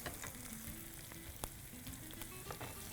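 Onions with ginger-garlic paste sauté in a pan, a dense continuous sizzle with scattered crackles and occasional stirring scrapes, close and steady.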